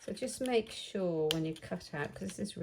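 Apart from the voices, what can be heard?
No everyday noise stands out behind the speech.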